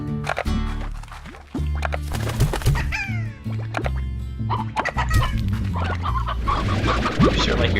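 Chickens cluck in the video game Slime Rancher, a busy flock of repeated clucks and squawks layered at moderate volume over a steady game background.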